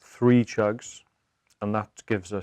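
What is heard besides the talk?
No everyday noises stand out.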